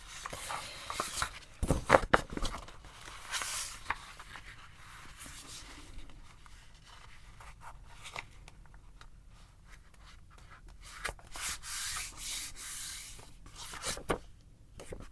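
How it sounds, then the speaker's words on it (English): Paper journal signatures are folded and creased by hand, giving soft, close scraping and rustling strokes with a few sharper crinkles, quiet and irregular with long pauses between bursts. "So I'm just putting the bends in, or the folds, I should say."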